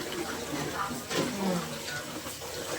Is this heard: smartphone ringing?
no